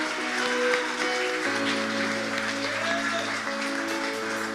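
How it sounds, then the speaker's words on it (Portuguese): A church congregation at a Baptist service applauds with steady, even clapping, moderately loud, over sustained keyboard chords that shift partway through. "Você pode aplaudir Jesus bem forte."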